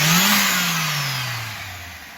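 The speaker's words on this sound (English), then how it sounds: "I'll give you a couple tags on the throttle here." Volvo 240 with turbo conversion revving as the throttle is blipped, a single loud engine swell rising then falling away steadily, close and alone with no talk.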